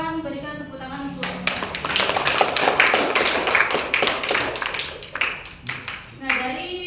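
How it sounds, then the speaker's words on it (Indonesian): Classmates at a micro-teaching session clap for student groups 1 and 2, a dense burst of applause lasting several seconds, with a teacher's voice just before and after. "Silakan berikan tepuk tangan untuk"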